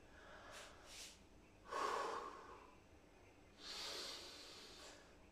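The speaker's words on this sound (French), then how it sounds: "Vous inspirez." A deep, audible breath drawn in through the nose during a stretching exercise, with a couple of soft airy inhales and exhales spread across a quiet room, fairly close and gentle.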